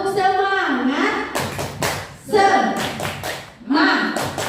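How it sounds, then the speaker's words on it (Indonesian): A classroom group, led by a teacher, does the rhythmic "tepuk semangat" spirit clap, sharp patterned claps in short bursts between chanted voices, close and fairly loud. "saya minta untuk tepuk semangat."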